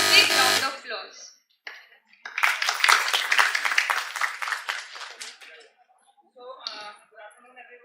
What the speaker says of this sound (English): welcome Dr. Ghosh to this stage with a big round of applause